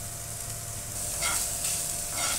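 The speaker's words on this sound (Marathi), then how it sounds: "याच्यामध्ये आता स्मॅश केलेला आपण पनीर घालून घेऊया।" Smashed paneer fries in a pan with garam masala and turmeric, making a steady close sizzle with soft scraping stir strokes. Sound alone, with no talking.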